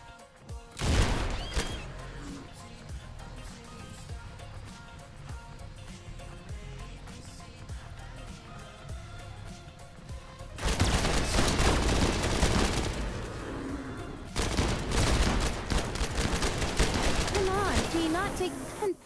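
Heavy gunfire during a raid in the Rimworld colony game: a sharp early shot, then a quieter stretch of clatter under music and voices, followed by two long, loud barrages of rapid shots.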